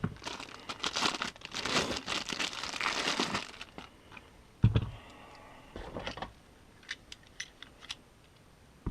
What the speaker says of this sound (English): Plastic packaging on some of these items is an absolute nightmare to try and get off.